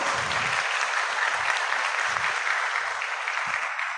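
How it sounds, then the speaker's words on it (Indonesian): An audience at an Indonesian national law seminar gives loud, steady applause that fills the hall without a break from start to finish. "Tepuk tangan."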